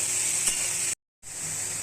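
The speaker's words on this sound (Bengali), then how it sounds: "চিংড়ি মাছটা ফ্রাই করে তুলে নেব" Shrimp frying in a pan give a dense, steady hiss of sizzling oil, close and even, cut off by a brief moment of total silence before the sizzle resumes.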